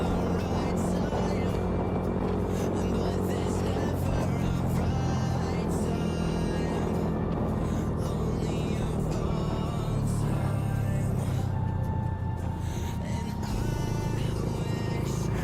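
A Yamaha R15 V3 motorcycle fitted with a short R9 Misano exhaust, modified with a 1 mm silencer filter, holds a loud, continuous buzzing engine note with rising and falling revs, a few faint voices beneath it.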